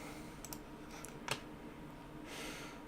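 A few soft, quiet clicks from a computer mouse, spaced irregularly over faint room hiss.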